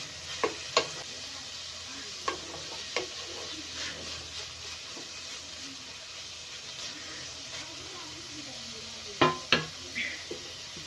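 Noodles with cabbage are stir-fried on a high flame, a steady frying hiss with occasional sharp utensil clacks against the pan, louder toward the end.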